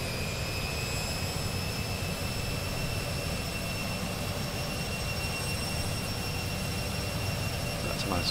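Twin jet engines of a CRJ-200 airliner in a flight simulator, set to climb power, roar steadily and loudly throughout with a constant high whine over a deep rumble and no talking.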